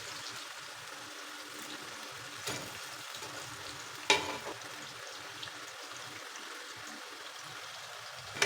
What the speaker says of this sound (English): Fry them on a medium heat for about 3 to 4 minutes